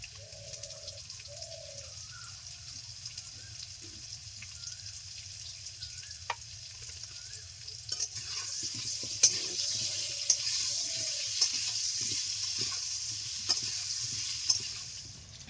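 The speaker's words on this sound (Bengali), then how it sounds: "এই তেলে আলুগুলো ভেজে নেব মিডিয়াম আছে আলু ভাজা হচ্ছে" Potatoes fry in oil over medium heat with a soft, steady sizzle, starting quiet and growing louder partway through, broken by occasional utensil clicks and taps; no talking.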